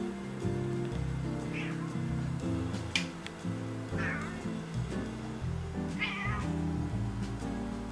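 A house cat meows several times at moderate distance, short rising cries spaced a couple of seconds apart over steady background music and household noise.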